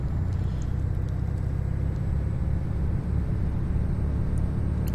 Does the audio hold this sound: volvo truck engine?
yes